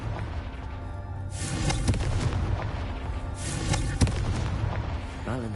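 The Confringo fire spell explodes in Hogwarts Legacy, two booming bursts with bright crackling flare-ups a couple of seconds apart over a rumbling game soundscape.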